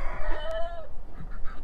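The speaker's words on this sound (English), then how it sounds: "and apparently a rooster." A farm rooster crows once in a clear, drawn-out call, close and fairly loud, with faint barnyard clucking and ambient noise around it.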